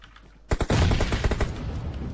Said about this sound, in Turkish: Bomba attı bir tane oraya.